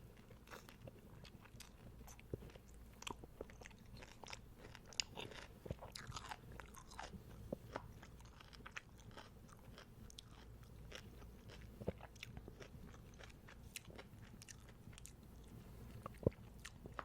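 Close, quiet crunching and wet chewing of a pickled pepperoncini pepper, with steady bites and mouth sounds repeating alone for the whole stretch.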